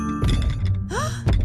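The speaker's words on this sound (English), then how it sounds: "That's the sound of big feet." Heavy cartoon footsteps of big people approaching a tiny castle, a couple of deep booming thuds separated by a pause, with twinkly magical tones ringing between them.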